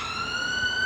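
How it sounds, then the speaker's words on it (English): An ambulance siren on its way to the Royal Free hospital in London sounds a steady, loud, high tone through a brief moment. "Here we go, another ambulance up to the Royal Free"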